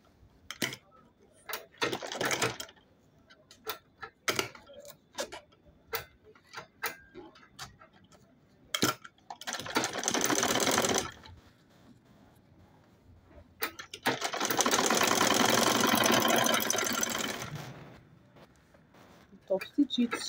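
A sewing machine top stitches a travel bag in two sustained runs of steady whirring, the second longer, with scattered clicks and a voice talking in between.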